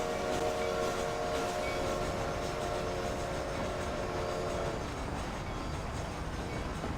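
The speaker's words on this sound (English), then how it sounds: "I'm gonna watch this train arrive." A train in Red Dead Redemption, a mixed passenger and freight train, rolls in with a steady rumble, a sustained horn-like whistle tone held for several seconds, then the ongoing roar of the cars alone.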